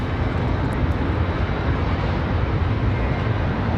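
A Southwest airliner departing from runway 5 at Raleigh-Durham International Airport makes a steady, loud, broadband roar that holds evenly throughout with no break.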